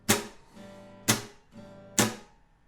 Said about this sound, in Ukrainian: цей елемент це глушіння струн під час удару вниз